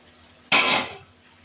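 Water is poured into a pan of fish cooking with coriander, a single brief splash lasting about half a second and then fading.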